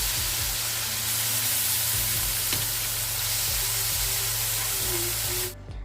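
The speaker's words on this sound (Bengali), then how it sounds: "আর এই তো মৌরলা মাছ ভাজাটাও কিন্তু বসিয়ে দিয়েছি ওটাও হচ্ছে" Small mourala fish fry in hot oil in a pan, giving a loud, steady sizzle that runs for several seconds with a few light utensil taps, then cuts off abruptly near the end.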